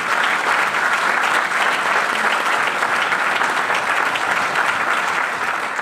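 Loud, continuous applause from a large audience honouring a guru, a thick even wash of clapping that stays constant from start to finish without speech.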